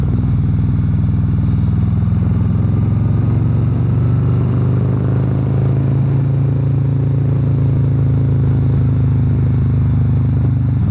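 Harley-Davidson Road Glide Special with a 131 engine under way, a loud deep rumbling V-twin drone that rises and settles steadily as it rides, with wind rush over it.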